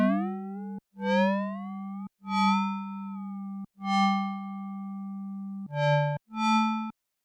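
A YM2612 FM synthesis module in VCV Rack plays six separate sustained tones, each rising with sweeping bright harmonics over a steady low drone, clean and electronic with short gaps between notes and no voices.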